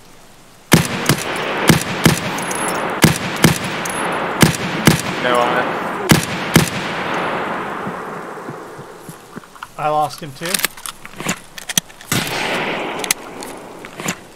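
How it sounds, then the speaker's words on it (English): Sharp, scattered gunshots in the shooter Escape from Tarkov, single loud reports spaced irregularly over a busy, buzzing background, with players talking between them. "Shit, did he just shoot at you?"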